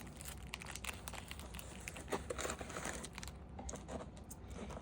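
Soft, continuous crinkling and rustling of a bag of small thin plastic baggies, close and fairly quiet, with scattered sharper crackles as it is handled.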